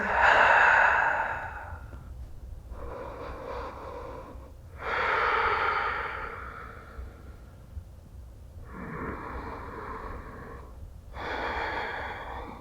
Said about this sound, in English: We're breathing steadily.